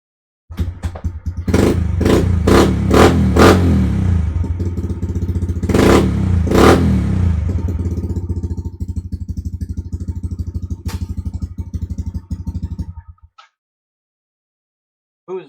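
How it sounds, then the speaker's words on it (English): A 110cc pit bike engine cranks with several sharp blips, then fires up and settles into a loud, steady close-up idle with a few throttle revs before cutting off abruptly near the end. "let's start up the pit bike."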